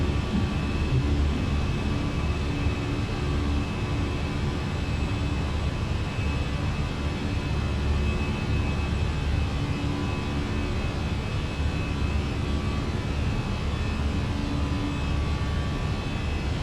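Constant roaring whine of airliner jet engines from a Phoenix aircraft in Microsoft Flight Simulator during climb-out, a steady even drone that carries on unbroken with no voices.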